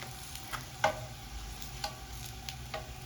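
Syrian shawarma meat sizzling in a frying pan as it is flipped, a soft steady fry with a few distinct clicks and taps of the utensil against the pan.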